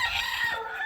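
A Copper Marans barnyard rooster lets out a brief, close crow, heard alone as a single bright burst.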